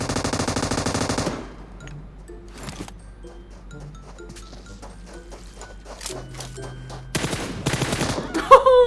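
PUBG Mobile gunfire opens with a loud rapid automatic burst, followed by scattered single shots and quieter effects, then another dense burst of rapid fire near the end.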